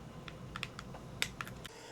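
Keys clatter in a light, irregular run of clicks on a computer keyboard beside an ASUS ROG G22CH small-form-factor gaming PC, fairly quiet over a low steady hum, with no talking.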